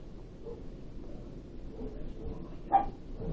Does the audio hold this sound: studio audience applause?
no